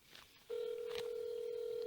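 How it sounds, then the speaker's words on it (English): A telephone gives a short beep, then a steady, loud dial tone holds for over a second, heard close as a call is being dialed. "Let me just make a quick phone call."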